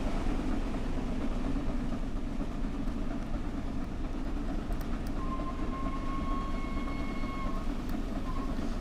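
A train in the video game Train Sim World rumbles along in a steady low drone, with a faint whistle-like tone rising briefly near the end.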